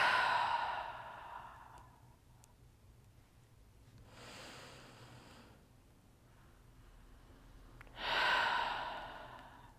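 Slow, deep breaths in and out during a relaxing hip and back stretch, with soft airy exhales rising and fading roughly every four seconds, close and quiet.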